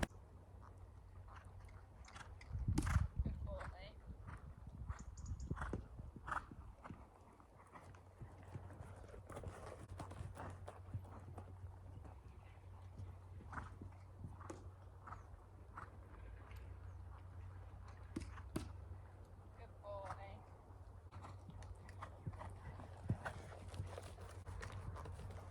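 Hooves of a ridden horse fall in a soft, uneven clip-clop over a long stretch, faint and fairly close, with an occasional louder thud and low background rumble.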